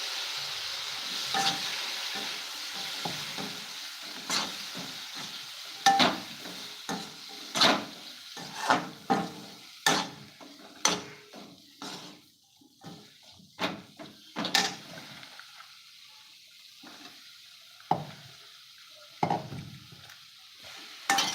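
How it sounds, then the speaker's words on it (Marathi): Long slices of brinjal frying in a pan for a vegetable dish, a low background sizzle broken by repeated sharp clatters of a spatula or utensil against the pan, irregular knocks through the whole stretch, no speech. "आता याच्यात वांगी आपल्याला फ्राय करायचे"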